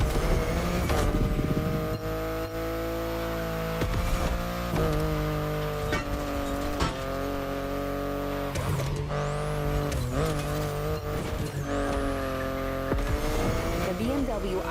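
A BMW i8 drives in The Crew Motorfest, its engine holding steady tones that rise and shift with gear changes, punctuated by brief tire squeals and sweeping whooshes, loud and close throughout.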